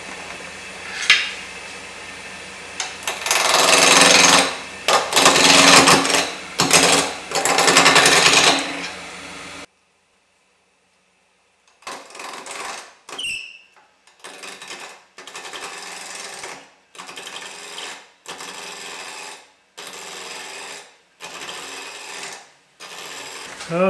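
A spindle roughing gouge cuts a burly piece of box elder on a wood lathe spinning at about 1300 RPM, giving loud rasping bursts, then a short silence and a series of shorter, choppy cuts.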